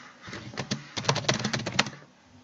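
Quick bursts of keystrokes on a computer keyboard while entering text into a Python Qt Designer shopping list app, close and clear, with a sparse start building to a dense run of clicks before stopping.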